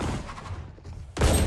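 Gunfire in a GTA V NoPixel roleplay game: a muffled burst of shots fades out, then a loud, sharp blast lands near the end, close and full.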